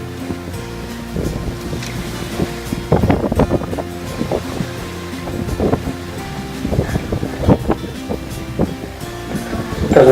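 A sailboat under sail in open water, with waves washing and splashing against the hull over steady rushing wind buffeting the microphone, loud and close with no talking.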